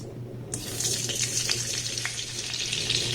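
Ghee and butter heating in a pan start to sizzle after a quiet half-second, then settle into a steady close crackle with a low hum beneath.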